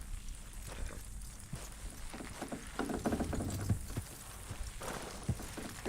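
Horse hooves walking in the video game Red Dead Redemption 2, a faint, uneven clip-clop of steps under a low game ambience.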